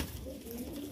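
Golden and teddy pigeons with dab markings coo softly and steadily at a loft in Amritsar, Punjab, a low continuous murmur with faint background noise.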